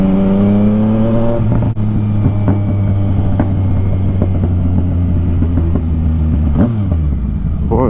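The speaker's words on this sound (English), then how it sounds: "I love the way this bike just pops and everything." A Yamaha Tracer 900 motorbike is ridden along, its engine droning steadily and loud with rising and falling revs, occasional sharp pops cutting through, and a gear change near the end.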